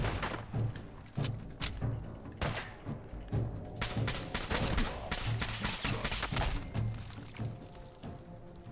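Gunfire in Fallout 4, rapid shots and bursts cracking out in an uneven rhythm with thuds between, loud and continuous throughout.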